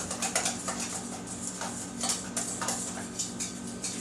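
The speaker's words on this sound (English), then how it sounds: "We're really just going to whisk that up until it's combined." Milk and flour are whisked together in a bowl for a homemade potato soup, producing a steady, fast run of light clicking strokes at close range with no talking.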